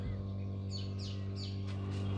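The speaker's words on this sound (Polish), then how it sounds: "Już ptaszki śpiewają z samego rana." Birds chirp briefly at dawn beside a lake on a fishing trip, faint and a little distant, over a loud steady low engine hum.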